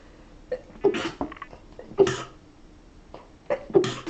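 A few sharp sneezes and coughs burst out close by, spaced apart with quiet pauses between, the last pair louder than the first.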